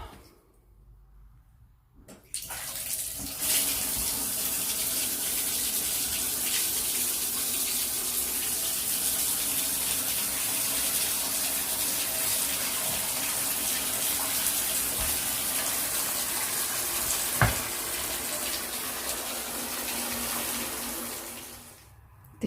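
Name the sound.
bathtub filling with running water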